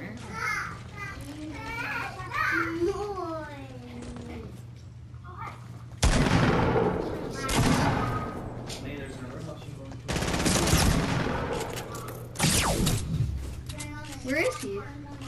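Gunfire in a multiplayer shooter video game with a minigun, heard as several loud bursts of rapid automatic fire between stretches of excited young voices talking and calling out over steady background hum.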